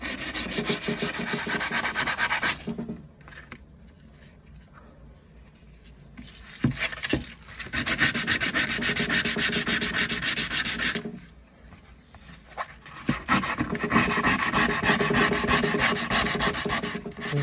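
A rusty kitchen knife is sanded by hand, producing long stretches of loud, steady, rhythmic scraping that break off into brief quiet pauses before resuming.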